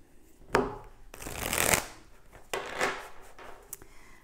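Tarot cards being shuffled by hand in several bursts: sharp riffles and longer rustling sweeps separated by short pauses, close and clear.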